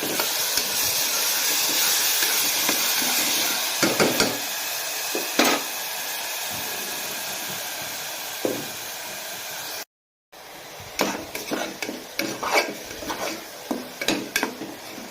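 Chopped onions frying in hot oil in a pan for a Sunday chicken gravy give a steady, close hiss with scattered crackles and pops that stop briefly near the end, then resume.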